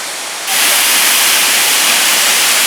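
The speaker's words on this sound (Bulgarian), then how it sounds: "в долната част на красивия водопад с Овчарското пръскало, до който днес имахме удоволствието да дойдем" Suvcharsko praskalo, a 54 m waterfall in Stara Planina, roars as a loud, steady wash of falling water that swells up after a brief quieter moment and stays constant.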